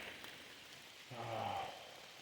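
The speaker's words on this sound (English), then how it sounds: "it's raining. It's been raining pretty much all day" Steady rain patters in a soft, continuous wash, with a brief low hum rising partway through.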